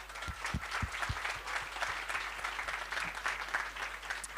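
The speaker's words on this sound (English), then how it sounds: "So a round of applause to you guys too." An audience at a startup expo in Armenia applauds the mentors, giving steady, dense clapping from a crowd heard at moderate distance without speech over it.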